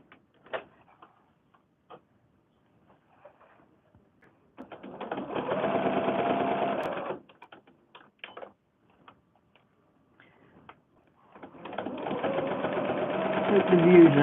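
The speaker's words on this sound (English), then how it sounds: "Okay, then we can sew around that one." A sewing machine stitches through fabric pieces for a cloth book in two sustained runs of a few seconds each, close and whirring, with small clicks and handling noises between.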